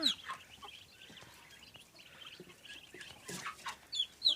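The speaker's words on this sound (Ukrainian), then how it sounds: "Ось це з молоденьких дві курочки, півник, з тих купованих." Two young hens and a rooster in a farmyard give soft scattered clucks and brief calls at close range, quiet and intermittent with no talking.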